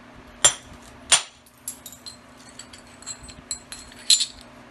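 Georgetown flint struck by percussion to skin cortex from a beveled edge: two sharp, bright clicks close together, then a scatter of lighter taps and tinkling chips, ending in another crisp strike.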